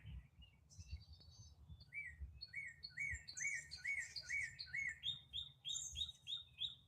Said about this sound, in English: I think that's a chickadee.